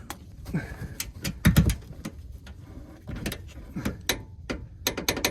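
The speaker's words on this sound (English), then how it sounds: "I'll get my torque wrench and let's torque those down" Ratcheting clicks from a torque wrench tightening bolts on Bilstein 5100 shocks being installed on a 2018 Chevy Silverado 2500, heard as short bursts of close metallic clicking with pauses between strokes.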